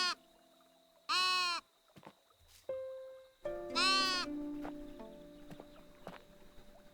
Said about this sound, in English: Oh, there's a sheep! Look at it!